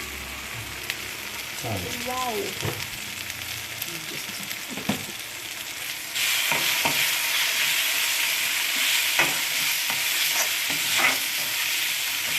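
Chicken frying in oil with coriander powder and chili, stirred in a pan: a continuous sizzle that swells louder partway through, with scraping stir strokes and a brief spoken word early on.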